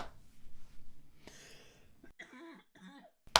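A faint, low cough-like rasp followed by a couple of throaty clearing sounds, quiet and somewhat distant in a hushed room.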